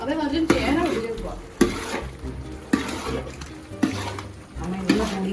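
Yam being stirred with rice flour in a pan, rhythmic scraping strokes repeating about once a second over a soft sizzle, with faint background voices.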